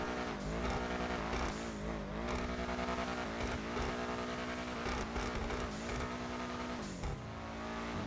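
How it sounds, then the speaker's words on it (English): In GTA Online, a Benefactor Schlagen GT sports car engine revs hard and loud, its pitch climbing and dropping through repeated gear-like steps and then falling away near the end. "let's go ahead and give it some gas and rev it"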